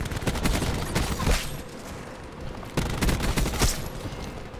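An automatic Hades crossbow fires in Call of Duty Black Ops 4, with rapid bursts of loud, close shots crackling in dense volleys, a short lull between two strings of fire.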